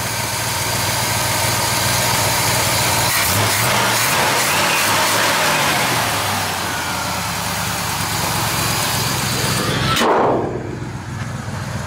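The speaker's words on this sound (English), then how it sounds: "Very nice running V8 motor." A V8 engine in a chrome-trimmed pickup truck idles steadily and loudly at close range, a continuous rumble with a brief rise near the end.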